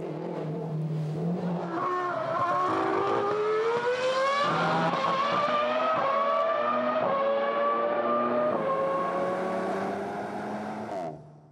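A Renault Sport car engine revs hard through a series of rising gear pulls, loud and close with shifting whining tones, before cutting off sharply at the end.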